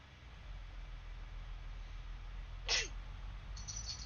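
A single short, sharp sneeze bursts out near the mic against a quiet background hum, followed by a faint brief noise.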